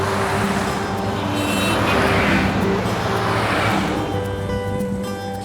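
Old cars cruise along a country road in Australia during a long drought-relief drive, with a loud, steady engine drone and rumbling road noise that fades slightly at the end.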